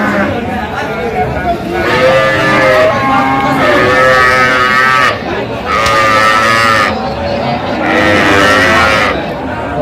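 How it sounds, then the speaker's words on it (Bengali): A cow with a calf moos loudly several times at a cattle market, long drawn-out calls close by, with people talking in the background. "গাভী বাছুর"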